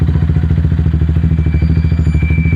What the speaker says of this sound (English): All I'm doing is just letting off the clutch and pulling in as soon as it starts to move forward